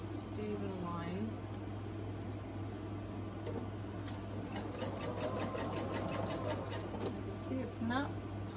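A sewing machine hums steadily while stitching quilt pieces for an X's and O's quilt, a close, even whirring drone running the whole time beneath intermittent talk.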